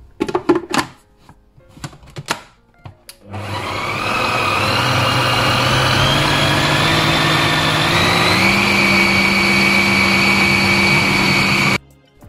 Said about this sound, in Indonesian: Kemudian kita blender lagi.